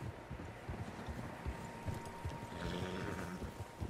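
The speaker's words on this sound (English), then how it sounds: "Horses, quite a few of them." Many horses' hooves pound in a steady galloping rhythm in Red Dead Redemption 2, a continuous rumbling clatter over a wind-like background.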